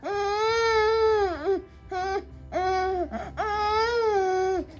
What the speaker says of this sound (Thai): ร้องไห้ไม่มีน้ำตานะคะ แกล้งร้องไห้นะคะ